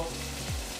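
Chorizo hitting a hot pan and sizzling, a brief steady fry hiss close up with a small stir partway through.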